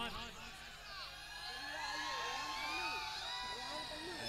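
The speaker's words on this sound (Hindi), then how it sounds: "एक बार जोरदार तालियां और" Crowd at a dance competition at the Shaheed Mela in Bewar cheering, whooping and clapping, a steady lively roar building slightly over a few seconds, with shouts and chatter mixed through the noise.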